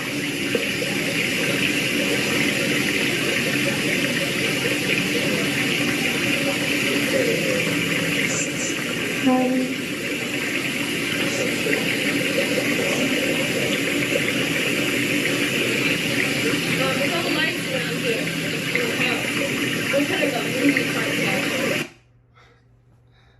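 Water running continuously in a steady, rushing wash that holds at an even level for over twenty seconds, then cuts off abruptly near the end, leaving quiet.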